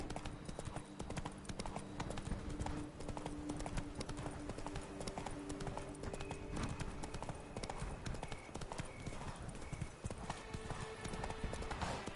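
Horse hooves clip-clop steadily in a Witcher 3 game scene, the horse Roach trotting along with a continuous rhythmic beat under background music and faint voices.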